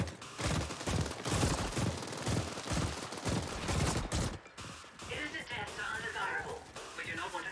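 Rapid, dense automatic gunfire fills the first half of a final boss fight in The Ascent, then gives way to scattered electronic effects, with a voice talking throughout.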